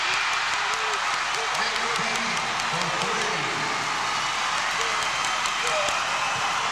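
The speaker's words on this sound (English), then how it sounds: "Sauk Prairie, their big crowd making some noise" A big Sauk Prairie crowd cheers at a 1996 boys basketball state final, a steady roar of noise from a packed gym, with a commentator talking over it throughout.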